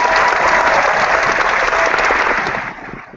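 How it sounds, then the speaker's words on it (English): An audience gives a round of applause for contestants, with dense, steady clapping and some crowd noise that fades out near the end. "let's just give a round of applause to our contestants"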